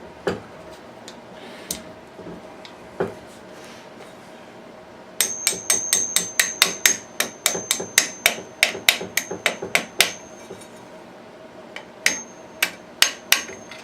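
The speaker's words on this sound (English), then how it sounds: "Carefully feed that through as I push the slave pin back out." Pin pressed out of an AR-15 trigger group, a series of sharp metallic ticks and light taps in a quick, fairly regular run, close and clear, with scattered single clicks before and after.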